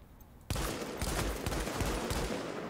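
Gunfire in the video game The Division bursts in suddenly, a loud, rapid string of shots repeating roughly every half second over a dense, continuous roar, close by.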